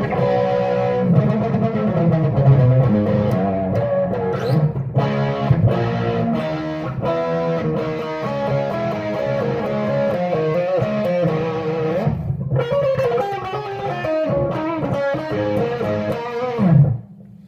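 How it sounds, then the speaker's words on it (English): Handmade electric guitar on its front pickup, played through an amp turned up fairly loud with some gain and no presence or reverb, rings out in steady, dense distorted chords for about seventeen seconds, loud and alone. "and now this is the front pickup. This is just the amp up a bit loud with a bit of gain"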